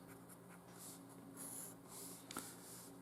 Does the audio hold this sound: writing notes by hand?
yes